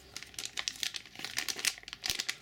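A crinkly plastic bag of UHA Mikakuto Yokai Watch strawberry ramune candy is torn open, giving quick, irregular crackles and rustles up close at low volume, with no speech.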